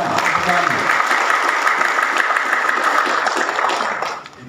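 Audience applause at a Pemuda Katolik youth event, a dense sustained clapping that holds steady for several seconds before tapering off at the end.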